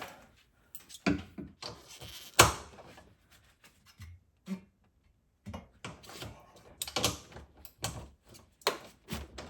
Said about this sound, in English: I'm gonna first take it out with a breaker bar, and we're gonna loosen it up